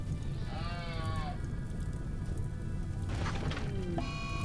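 A goat bleats in distress as it dies in the game Rimworld, two wavering cries spaced a few seconds apart over a steady background hum.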